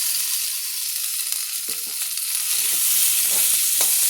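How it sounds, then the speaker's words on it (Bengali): Boiled bottle gourd going into a pan of fried spices for lau ghonto, a steady loud sizzle with scraping spoon strokes stirring the mix close by. "আমি যে এই যে লাউটা সিদ্ধ করে রেখেছি, এই লাউটা এবার এর উপর দিয়ে দিচ্ছি।"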